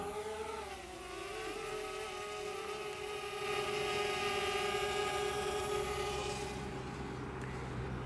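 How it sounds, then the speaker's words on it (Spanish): A DJI drone's motors spin up and hold a steady whirring drone with a high buzzing whine, growing louder as the aircraft lifts off for takeoff, nearby and continuous. "Lo que voy a hacer ahora es encender motores."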